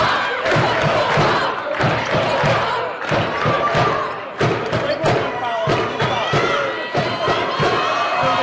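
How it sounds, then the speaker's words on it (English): A basketball crowd in a college gym roars and shouts continuously to urge the home team on, loud and close, with sharp thumps and stamping mixed in and voices rising over the din. "You obviously hear the crowd still trying to will their team on to a win."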